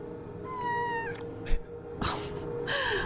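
A cat meows in the video game Kathy Rain 2, giving several drawn-out, wavering calls over a steady background hum, close and fairly loud.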